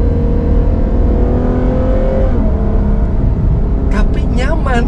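Ferrari FF, the brand's first mass-produced all-wheel-drive car, accelerating hard with a loud, steady engine roar that climbs in pitch, heard from inside the cabin under continuous talking.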